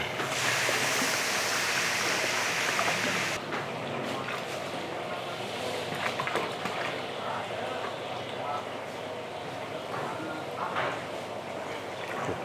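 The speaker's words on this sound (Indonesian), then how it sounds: "Sekarang langsung aja kita masukin airnya ya." Water poured into a pot of fragrant spice-infused oil for a big batch of Chinese corn soup, a loud rushing splash that runs steadily for about three seconds, then gives way to softer sloshing and bubbling under a low voice.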